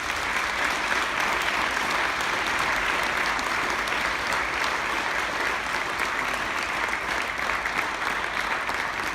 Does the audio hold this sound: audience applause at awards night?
yes